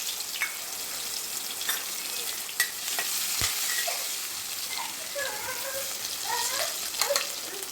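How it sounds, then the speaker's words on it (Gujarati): Capsicum sautéing in hot oil with garam masala, a steady broadband sizzle with scattered pops and crackles and a few spoon scrapes against the pan, close and continuous with no talking. "કેપ્સિકમ આપણે પહેલાં સતરી લેવાના છે."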